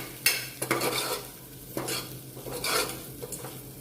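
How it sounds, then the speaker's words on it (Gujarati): A spoon stirs Kashmiri red chilli powder and spices through a pot for urad dal, giving close scraping and clinking strokes over a soft sizzle, with no voices. "બધું સરસ મિક્સ કરી લઈશું"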